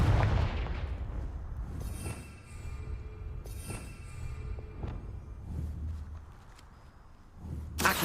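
Repeated fiery spell blasts from the Confringo curse in the video game Hogwarts Legacy, loud booming bursts with rumbling tails over a continuous roaring game soundscape, ending with a sharp burst.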